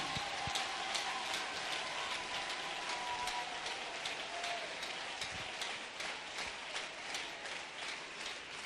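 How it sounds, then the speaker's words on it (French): A church congregation clapping together in praise during a worship service, a dense, continuous patter of many hands at moderate distance, steady throughout with no voices over it. "clap to the glory of Jesus"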